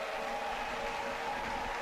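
Spectators at a show jumping competition applaud a finished round, producing a steady, distant wash of clapping and crowd noise with no clear individual claps.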